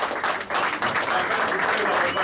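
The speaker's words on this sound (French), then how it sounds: "Applaudissez pour lui." A crowd at an eighth-anniversary community celebration in Indonesia applauds for the country's president, producing a dense, sustained wash of clapping throughout.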